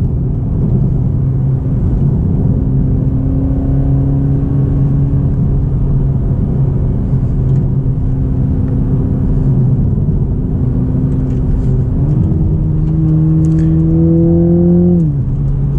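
Steady engine drone from inside a Toyota Supra 2.0 as it accelerates, pitch rising gradually, then a gear change and a further climb in revs.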